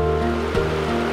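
A West Virginia mountain creek, Seneca Creek, flows during a winter snowstorm, giving a steady, close, broad rush of water with no talking.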